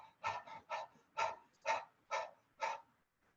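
A person practising a kundalini breath-of-fire exercise imitates a dog's panting with the tongue out: seven quick, breathy, evenly spaced pants, close and clear, with no talking.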